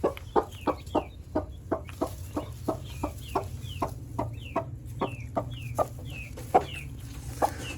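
A hen clucks repeatedly in a steady rhythm, close by, with thin high peeping chirps from guinea fowl chicks she hatched between the clucks.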